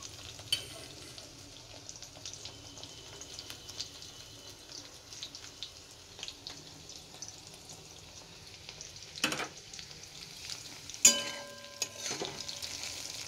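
Soybean chunks sizzle and crackle quietly in hot oil, with occasional stirring clinks and scrapes of a utensil in the pan.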